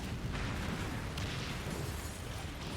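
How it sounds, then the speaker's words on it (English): Distant explosions in the naval video game Skull and Bones, heard as a continuous, dense rumble of low booms and crackling bursts with no talk over it. "The explosions at distance"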